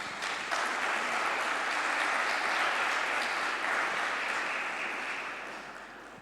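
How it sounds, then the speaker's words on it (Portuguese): Conference audience at a closing round-table session breaks into sustained applause for the participants, a dense even wash of clapping that holds for several seconds, then gradually fades. "Peço uma salva de palmas para todos os participantes"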